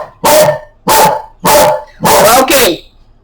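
A dog barks indoors, loud and close: four deep barks in steady succession, the last one doubled.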